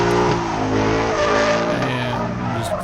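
A Mustang drift car in competition at Stroud spins out with its engine roaring loud and close, tires scrubbing and squealing in a continuous rush.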